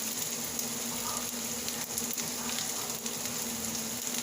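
Butter sizzles steadily in a hot, slightly burnt skillet over a lowered flame, a soft continuous crackle and hiss heard close with no talk.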